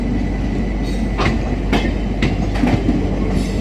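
Lok Shakti Express train, Bandra Terminus to Ahmedabad, departing on a parallel track: steady rumbling rail noise with a few sharp clicks of wheels over rail joints, fairly close.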